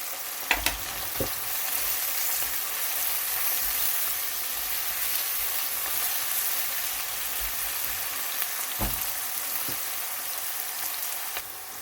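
Onions and garlic sauté in a pan with a steady, moderate sizzle throughout, marked by a few light scrapes and taps of stirring.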